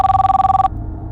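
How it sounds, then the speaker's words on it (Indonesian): A phone rings during a call with a loud, rapidly pulsing electronic trill that cuts off abruptly after well under a second, leaving low room hum. "Gue harus telepon Bakti"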